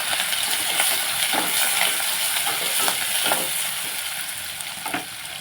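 Onions and green chillies frying in a pan for an okra and tomato curry, a loud, continuous close sizzle broken by a few spoon knocks and scrapes as they are stirred, with nobody speaking.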